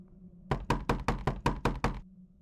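Knocking on a locked hotel room door: eight firm, evenly spaced raps in a quick run, close and loud, with a quiet room hum before and after.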